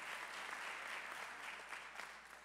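A graduation ceremony audience claps in a sustained, even wave of applause, soft and distant in a large hall, with no voices over it.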